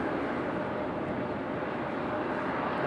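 A JetBlue airliner departing Raleigh-Durham International, a steady, even jet engine roar heard at a moderate distance without any talk.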